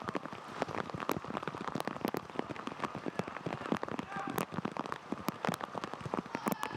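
Heavy rain pours down at an outdoor professional soccer match, a dense steady patter of drops striking surfaces with scattered sharper splats, while a commentator talks over it throughout.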